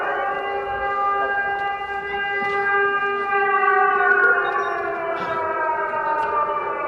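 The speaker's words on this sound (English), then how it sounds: "Every time the siren is here, I just tell her that it's fireworks." Air raid siren sounding in Ukraine during wartime, a loud, sustained wailing tone with rich layered harmonics that slowly rises and falls in pitch, heard alone and continuous throughout.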